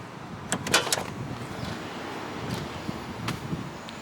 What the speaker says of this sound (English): Let's go ahead and go open up the passenger door and let this thing air out.